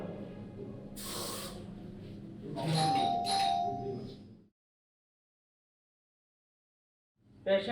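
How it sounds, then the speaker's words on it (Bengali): A doorbell rings inside a house with a short, bright chime. Soft rustling and movement come before it, then the room falls silent before a brief knock-like noise at the end. "কলিং বেলটা দাও"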